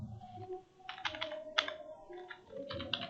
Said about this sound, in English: Then I type in my question.